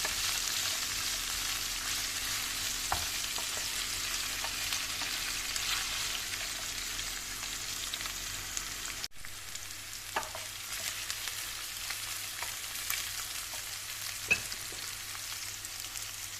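Carrots and garlic sauté in a pan, a steady soft sizzle and frying hiss running throughout, with a few faint clinks of stirring and no talk.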